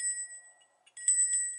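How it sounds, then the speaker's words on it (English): An antique bell rings with a bright, sustained metallic tone that fades, then is struck again twice in the second half, close and clear. "this beautiful antique bell"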